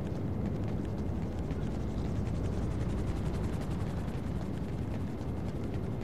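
Police helicopter in GTA V, a steady rapid thudding of rotor blades, loud and close and continuous without pause.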